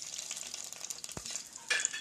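Cumin seeds frying in hot oil for an onion chicken curry, a soft, brief crackle with a faint scrape of a spoon, quiet and close.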